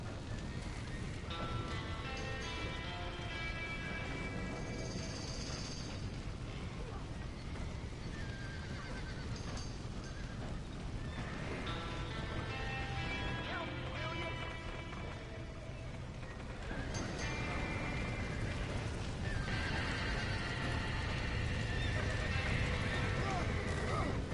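Horses whinny and neigh amid shouting voices and a steady wash of rain in Red Dead Redemption, with several loud calls rising above the busy, noisy scene.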